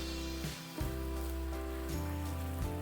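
Choi leaves, bean sprouts and green onion stir-frying for vegetable chow mein, a steady loud sizzle with a few shifts as the food is tossed.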